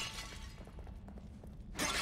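Small pots break in The Evil Within: a faint crunch near the start, quiet game ambience with soft knocks, then a sharp loud shatter at the end.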